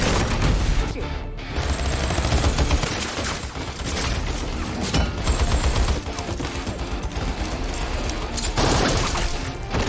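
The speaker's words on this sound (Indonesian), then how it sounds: "orang bayaran Simon yang mendatangi Levon, sehingga baku tembak pun terjadi" A gunfight in an action film produces dense, relentless gunfire with overlapping shots, crashes and impacts. It is loud and close throughout, with a brief dip near the start and a voice faintly mixed in.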